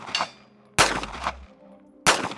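Three sharp, loud handgun shots from a $6000 pistol fitted with iron sights, fired outdoors at about 60, spaced unevenly with short echoing tails between them.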